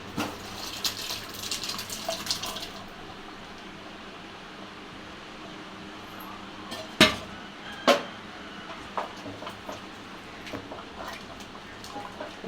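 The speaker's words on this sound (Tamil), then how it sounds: "இப்போ வந்து இந்த பருப்பை ஊற்றிக்குவோம்." Cooked lentils are poured into a pot of vegetables for biryani dalcha, a soft continuous liquid pour and splash at first, then a few sharp clanks of a utensil against the pot.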